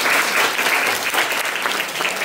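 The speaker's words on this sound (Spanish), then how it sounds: "Regálenle un fuerte aplauso para este grupo." A crowd claps loudly and steadily throughout, a dense sustained round of applause with no pauses.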